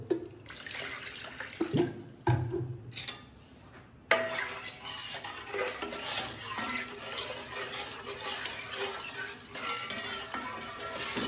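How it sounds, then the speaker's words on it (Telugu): Water runs and splashes into a container in short bursts, then keeps sloshing and swirling steadily nearby. Nobody talks. "కొన్ని వాటర్ యాడ్ చేసుకుంటాను"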